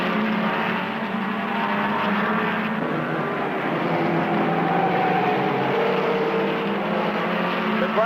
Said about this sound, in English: Garrison and his teammates in the Corvettes go by as Briggs goes back on the track